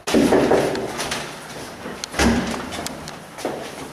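A front door opening to a visitor's arrival: a soft thud and rattle at the start, a second short knock or clunk partway through, and a faint click near the end, with room noise throughout.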